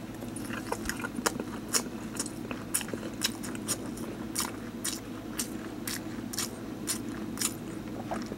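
Convenience store smoked egg being bitten and chewed close up, a quiet run of soft, repeated crunchy bites and mouth sounds at a steady rhythm.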